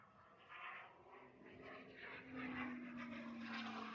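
A distant RC model airplane drones at full throttle against the wind at an evening club fly-in, its engine a faint, steady, slowly rising whine heard alone.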